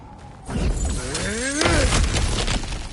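Objects get smashed in the video game God of War Ragnarok: a dense crashing, shattering burst lasts a couple of seconds, with rising tonal sweeps and debris clatter over a rumbling low end.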